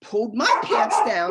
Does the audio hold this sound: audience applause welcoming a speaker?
no